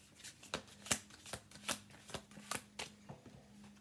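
A deck of playing cards being shuffled, with repeated sharp riffling bursts at an uneven rhythm, close and moderately loud, with no talk over it.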